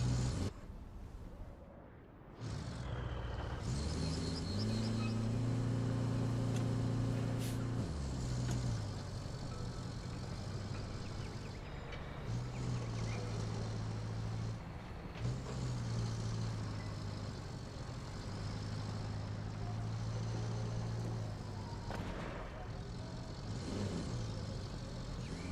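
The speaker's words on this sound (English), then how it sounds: "It even sounds like the exhaust on an English car." A low car exhaust rumble in the video game RoadCraft drones continuously, rising and falling in pitch with repeated throttle changes, fairly loud and without talk.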